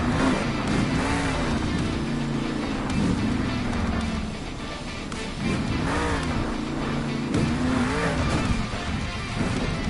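The Maximum Destruction monster truck engine revs hard in a Monster Jam arena, loud rising and falling roars in repeated bursts with a deep throaty rumble and crowd and announcer noise underneath.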